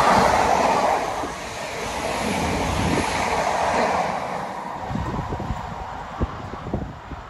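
A diverted Hull Trains service passes through Alfreton station, its broad rushing roar and rumble of wheels filling the air, easing slightly then sounding a series of rhythmic clicks over rail joints as it goes by.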